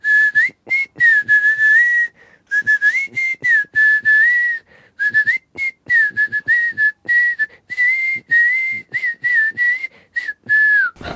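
Loud, clear melodic whistling in a live performance with a beatboxer, phrased in short bursts with brief pauses and backed by crisp percussive clicks throughout.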